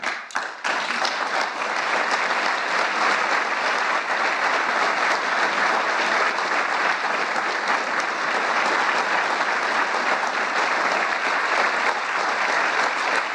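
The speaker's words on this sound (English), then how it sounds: "I like how they're clapping just abruptly stopped." A crowd at a Medal of Honor ceremony bursts into sustained, dense applause that holds steady and loud, a continuous wash of many clapping hands with no pause.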